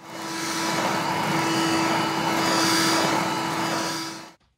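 A Milwaukee Packout shop vacuum runs with a steady, loud whirring drone and a constant motor whine, holding evenly for several seconds before cutting off abruptly at the end.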